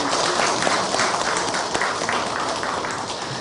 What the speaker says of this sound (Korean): 우리 성가대에게 우리 감사의 박수 하겠습니다